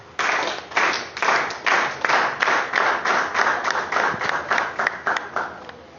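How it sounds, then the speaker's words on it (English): A round of JCI-style clapping for the editorial board at a January business meeting: a room of hands applauding steadily and fairly loud, with rhythmic pulses running through the whole stretch and no talk over it. "with a round of JCI clap resounding, please appreciate the editorial board"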